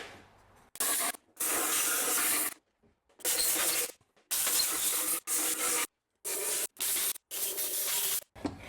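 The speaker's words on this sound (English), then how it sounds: "So first I'm just going to blow it out with some compressed air." Compressed air blasts out the intake ports of a BMW 535i E60 engine in short, close, forceful hissing bursts, separated by brief silences. There is no talking.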